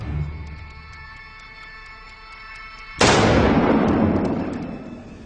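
A revolver is fired from the hip at two targets in very rapid succession. The shots merge into a single loud, sharp blast that rings and slowly decays, after a stretch of quiet, faint ticking.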